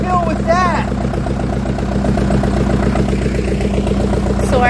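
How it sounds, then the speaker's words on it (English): A tractor fitted with a dozer bucket idles close by in a steady, loud, even chug, and people talk briefly over it at the start. "our neighbor is here and he's showing us what our tractor is capable of doing"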